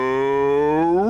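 A cow in the video game Divinity: Original Sin lets out a single loud, close moo, a sustained tonal call that bends upward at the end.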